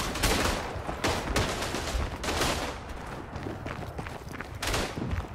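Dense gunfire rattles through a World War I shooter game, Verdun, with overlapping rifle and machine-gun bursts in a loud, continuous battle din and no talk.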